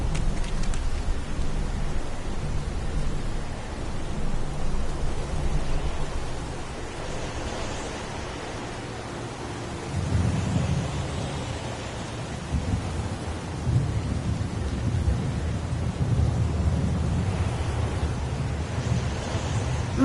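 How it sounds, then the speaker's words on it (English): Steady pouring rain with low rumbling thunder in the Heavy Rain video game, a dense continuous wash of noise with swelling rolls, no voices. "It's pouring rain."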